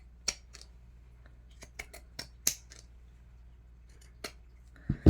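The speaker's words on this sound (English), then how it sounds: "I just start pinking about a 1/4 inch of the way away from where I sewed" Pinking shears snipping through fabric for a journal cover, a series of short, crisp cuts at irregular intervals, close and fairly faint, with a couple of louder handling knocks at the end.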